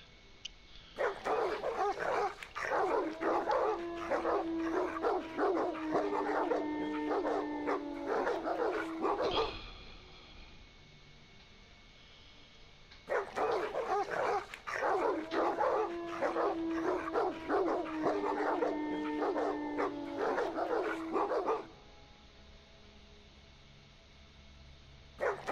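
Dogs bark in Dracula Love Kills in two long, loud, rapid runs, each lasting several seconds and separated by a brief quiet gap.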